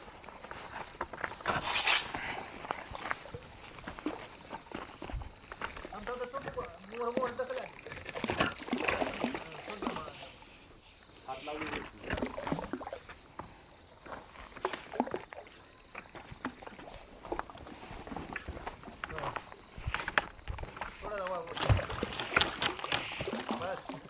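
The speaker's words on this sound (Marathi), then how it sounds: "आता आम्ही पाण्यामध्ये मोटर टाकत आहे" Water splashes and sloshes with occasional knocks and clunks as a Crompton openwell agricultural pump is lowered into a well, while people talk nearby through most of it.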